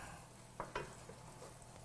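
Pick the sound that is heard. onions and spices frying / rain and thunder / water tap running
onions and spices frying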